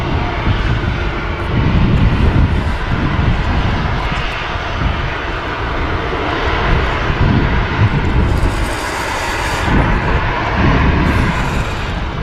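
An Etihad airliner at Manchester Airport produces a loud, continuous engine roar with slight swells and a faint high hiss late on, heard alone without talk.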